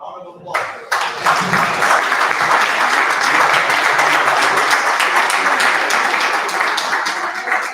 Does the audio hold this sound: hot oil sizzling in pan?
no